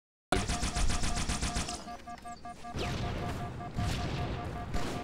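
Rapid automatic gunfire rattles in Halo 4 multiplayer, a fast burst of shots followed by further heavy bursts and blasts, loud and continuous with little pause.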